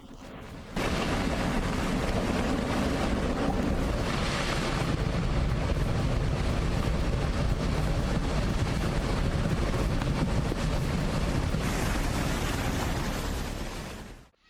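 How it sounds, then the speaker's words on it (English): A roaring mudslide sweeps down a mountainside as a loud, continuous rushing roar, swelling in and holding steady before fading at the end, with no voices. "The roaring mudslide sweeps down the mountain, threatening to swallow everything in its path"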